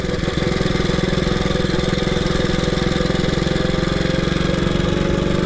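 A 1926 HRD Model 80 motorcycle engine runs close and loud, a fast, even thumping beat that holds steady throughout the ride with no talk.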